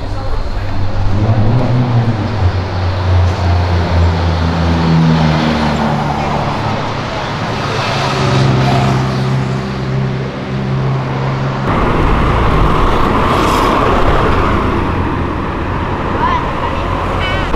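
Cars pass on Avenida Europa, one after another with engine drone and tire roar rising and falling in busy roadway traffic, while people talk nearby.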